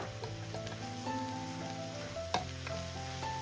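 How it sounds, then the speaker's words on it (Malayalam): Capsicum filling for iftar snacks frying and being stirred in a pan, a close continuous sizzle broken by a sharp scrape or clack of the spoon midway, with faint background music and no speech. "ഒന്ന് ഇളക്കി കൊടുത്താൽ മതി, വേവിക്കേണ്ട ആവശ്യമൊന്നുമില്ല."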